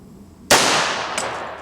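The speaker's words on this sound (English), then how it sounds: "Let's go ahead and shoot one more shot." A single sharp shot from a .45 ACP 1911 pistol cracks loudly outdoors, followed by a decaying echo and a faint second reflection, with no talking.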